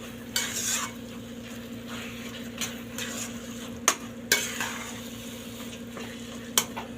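Baingan bharta mash being stirred in a pan, a soft continuous sizzle under a steady hum, punctuated by several sharp spoon scrapes and knocks against the pan.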